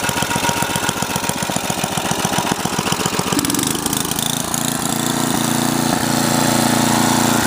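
Husqvarna snowblower engine running steadily up close, a loud continuous rattling drone with a chattering rhythm that smooths into an even hum partway through.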